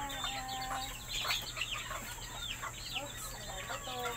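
Several chickens cluck and chatter close by in a busy coop, with short overlapping calls over a steady low hum.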